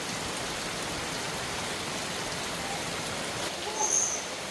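Steady rain falls in an even, continuous hiss throughout, with a faint bird call near the end and no talking.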